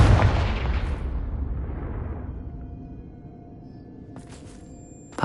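A Confringo fire spell in the video game Hogwarts Legacy sets off a loud booming explosion that rumbles and fades over several seconds. Game sound effects flicker near the end.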